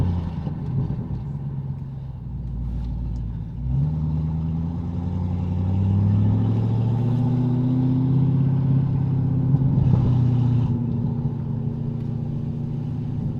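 A deep, loud exhaust drone from an Audi RS6 with a new Milltek system builds and rises through the gears, sustained and close, with a brief lift-off and pickup partway through.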